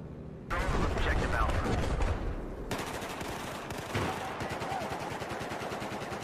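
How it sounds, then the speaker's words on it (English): ACE 52 CQB rifle fire in Battlefield 4, loud rapid automatic bursts starting abruptly and continuing through a chaotic firefight, with someone talking over it. "That's one of my favorite weapons, the Ace 52 CQB."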